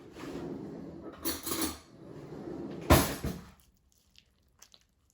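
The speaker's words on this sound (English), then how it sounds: "I will scoop out the seeds." Scooping seeds from a halved spaghetti squash, heard as scraping and soft scooping strokes with two louder bursts and a sharp knock near the end, followed by near silence with a few faint ticks.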